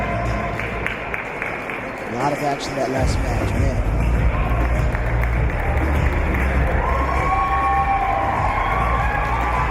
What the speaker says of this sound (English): he hears the roars from the Venezuela faithful in the crowd